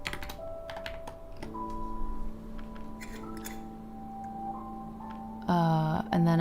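Keys on a computer keyboard tap in soft, irregular bursts, faint beneath steady tonal background music, with a brighter chime-like sound near the end.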